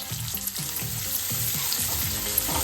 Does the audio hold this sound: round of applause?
no